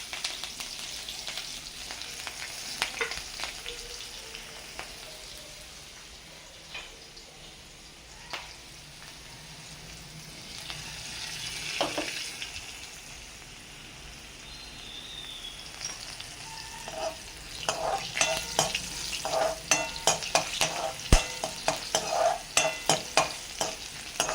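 Green chillies fry and get stirred in a pan, a continuous crackling sizzle broken by spatula scrapes and clatters that grow busier and louder toward the end, with no voices over it.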